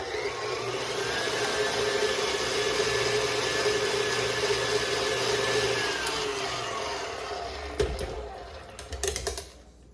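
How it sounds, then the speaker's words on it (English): An electric hand mixer whirs steadily at close range for several seconds, spinning off egg whites left on its beaters, then rattles and clatters as it is switched off and handled. "now I'm just going to turn this on for a little bit to get all of those egg whites out of my beater"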